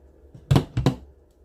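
Scissors trim sellotape on a coffee frame craft: a quick pair of close, crisp snips in an otherwise quiet room.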